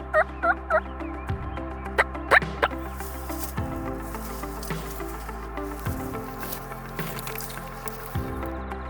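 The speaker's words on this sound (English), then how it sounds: "He got to hear a lot of gobbling" Wild turkeys gobbling outdoors during a spring turkey hunt, a cluster of short bursting calls early on, fairly distant, over a steady background of ambient noise and other birds.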